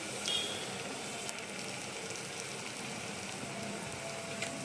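Wheat semolina (rava) tipped into hot oil in a pan for upma, giving a steady, even sizzle and crackle like light rain that holds at the same level throughout, with no talking.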